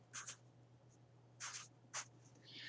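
Pen or pencil writing "1 cent" on paper: a few short scratchy strokes in separate bursts over a steady low hum, quiet and close.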